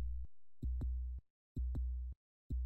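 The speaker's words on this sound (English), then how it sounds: "if you listen closely, you hear a heartbeat" A heartbeat in the 1991 video game Dark Ages: deep, soft double thumps repeating at a slow, even pace, each pair closely spaced, heard alone against silence.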